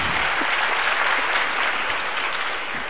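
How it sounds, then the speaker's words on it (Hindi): Steady, dense applause from a large audience at a motivational speech in Nagpur, a continuous wash of many hands clapping at even loudness for several seconds with no talking over it. "तालियां होनी चाहिए।"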